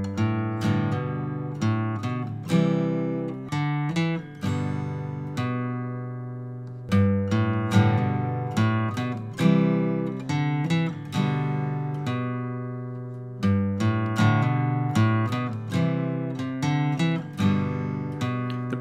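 Guitar strummed cleanly on the melody notes of a song, with bright ringing strums in a steady rhythmic pattern, each attack decaying before the next and a brief pause midway, with no voices.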